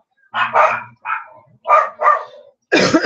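A nearby dog lets out a quick run of loud barks, four or five in close succession, with a brief pause in between.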